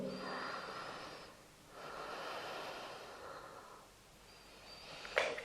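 During yoga practice, one person breathes slowly and audibly in long, soft, airy waves, with a quick sharp intake near the end. The breathing is close and quiet.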